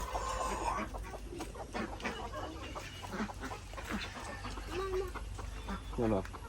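Hens cluck intermittently at close range while people talk over them, with scattered short calls and a brief louder squawk near the end.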